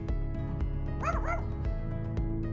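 A dog gives a short burst of yipping, whimpering barks around the middle of the moment, fairly close, over a steady low background hum.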